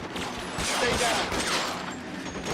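Dense gunfire crackles from the L.A. Noire crime game, a sustained burst of overlapping shots filling the whole span at close range, with voices shouting underneath.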